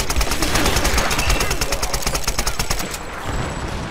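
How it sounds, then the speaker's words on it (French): Rapid automatic gunfire from the 2013 Tomb Raider video game, a dense rattling burst of shots that runs loud and continuous for about three seconds before easing off into quieter background game noise. "Mais je tire comme un fou."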